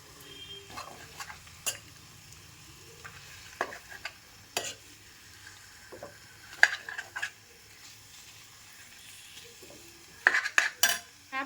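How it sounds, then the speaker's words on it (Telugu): Scattered scraping and clinking of a utensil stirring masala into fish pieces in a wide pan, with soft intermittent strokes and a faint sizzle underneath; no one speaks. "మసాలా మొత్తం చేప ముక్కలకి బాగా పట్టేలాగా ఒక్కసారి ఈ విధంగా కలుపుకోండి"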